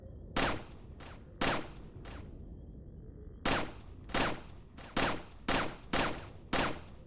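Gunfire in the video game Resident Evil 4: about nine sharp, loud single shots spaced irregularly, some in quick pairs, over a quiet ambient background.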